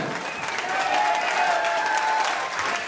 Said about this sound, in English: Big round of applause for Rob Levan.